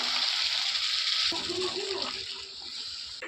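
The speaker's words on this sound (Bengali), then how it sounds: "এখন দিয়ে দেবো গরম জল।" Hot water poured into a pan of sautéed chicken curry, a steady, close rushing pour that shifts to a softer bubbling flow partway through and ends abruptly.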